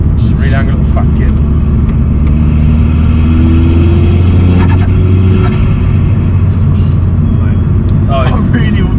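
Astra VXR with a stage 3 hybrid turbo rumbles loudly and steadily at close range, its engine holding a deep drone with slight revving swells, while people talk over it.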